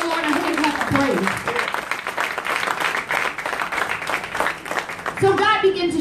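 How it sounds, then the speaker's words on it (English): A church congregation at a Sunday service claps in praise, a mixed wash of hands under voices, with people talking and calling out over the clapping throughout. "Give the Lord a hand clap of praise."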